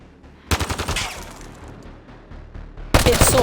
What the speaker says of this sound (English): It's so hard to shoot in this game.